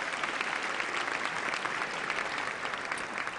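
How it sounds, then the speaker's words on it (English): A large audience at a mayoral inaugural address at The Met Philadelphia gives the Council President a huge round of applause, loud and sustained dense clapping throughout. "Give our Council President a huge round of applause"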